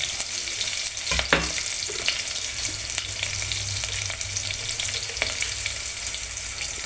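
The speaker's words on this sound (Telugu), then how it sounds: "పచ్చిమిర్చి, కరివేపాకు, ఇప్పుడు దంచుకున్న అల్లము తెల్లుల్లి వేసుకుంటున్నాను" Green chillies, curry leaves and crushed ginger and garlic frying in hot oil for a potato curry, a loud continuous sizzle with a few stirring clinks, close up with no talk.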